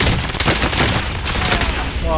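A dense barrage of gunfire in a video game shooter rattles on without pause, loud and close, with overlapping shots blending into a continuous roar.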